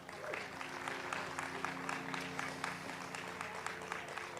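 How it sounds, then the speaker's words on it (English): Audience applause for the Buccaneers at an NFL Super Bowl LV legacy event, a faint, distant, steady patter of many hands clapping under a low hum, with crowd murmur mixed in. "So let's give a round of applause to the Buccaneers."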